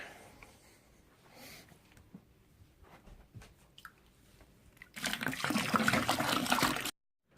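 Water pours into a home-brew beer fermenter for a Coopers kit, starting with faint trickles and sloshing, then becoming a loud, steady gush for about two seconds before stopping abruptly.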